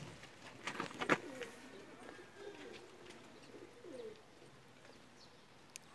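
Pair of Lal Badshah pigeons, male and female, give soft low cooing calls close by, with a few faint flutters and a brief sharp chirp; quiet setting.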